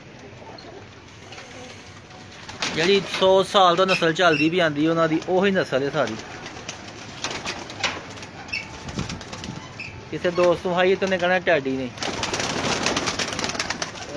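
Rooftop pigeons flutter and flap their wings in bursts, with soft cooing mixed in, while someone talks over them almost throughout.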